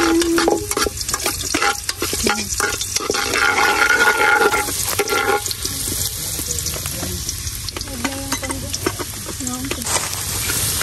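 Food sautés in a pan with busy stirring and clattering, a steady sizzle under intermittent scraping and clinks, and faint voices in the background.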